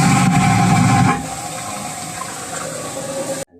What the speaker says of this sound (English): And this is the button you press to flush the toilet